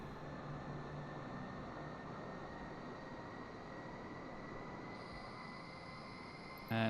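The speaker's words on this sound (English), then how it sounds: "There we go, these two engines starting up." Airliner jet engines spool up in a flight simulator, a steady broadband roar with a whining tone that rises partway through, ending with a brief louder burst; no talking.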